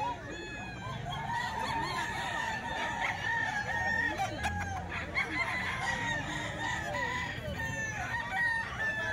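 Several roosters, including Talisay gamecocks, crow repeatedly, overlapping one another, with clucking fowl and a busy farmyard background.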